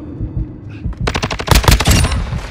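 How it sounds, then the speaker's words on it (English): Video game gunfire crackles in a rapid automatic burst, loud and close, with dense repeated shots rattling after a brief quieter lead-in. "I'm taking fire!"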